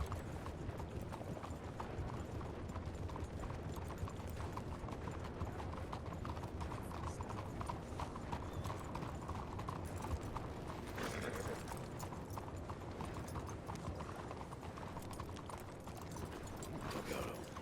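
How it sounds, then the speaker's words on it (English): Horses' hooves clip-clop steadily and continuously at close range, a dense run of overlapping hoof strikes with no voices. "Y'all can hitch your horses anywhere you like, except the back."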